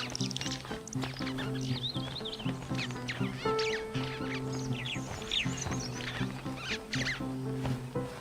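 Flock of gregarious birds in Zambia's Luangwa Valley during the dry season squabbling in a dense chorus of shrill, overlapping chirps and squawks, with steady background insect or hum tones.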